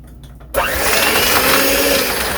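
An electric hand mixer starts up abruptly and whirs steadily at low speed while beating sponge cake batter, a loud, close, continuous motor drone with no talking.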